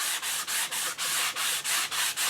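Close, regular rasping strokes of sandpaper worked by hand along the wooden stock of an HW30 air rifle, roughly ten even passes in a steady rhythm, no talking.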